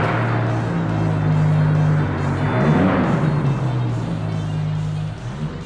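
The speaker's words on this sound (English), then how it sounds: "All right, let's start this Viper up and hear her hiss." A 1998 Dodge Viper RT/10 engine idles loudly up close with a low steady rumble, and a brief revving swell rises and falls midway before settling back to idle.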